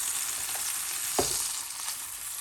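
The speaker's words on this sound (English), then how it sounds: "I'm just gonna put these in the pot. Alright, we're gonna fry at the moment." Crushed garlic frying in oil in a pot, a soft continuous sizzle with a brief stir or clink partway through, close and quiet with no talking.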